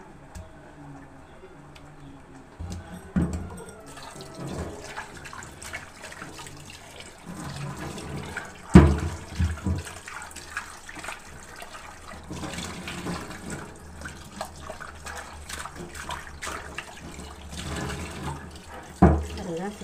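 Tap water runs into a sink while raw chicken pieces are washed for a Chicken 65 recipe, a continuous splashing flow with occasional louder clatters and sloshes, and a voice talking over it at times.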